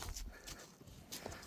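A young Kyrgyz horse is led around on foot, its hooves making a few close clip-clop steps over a short stretch, with faint background noise.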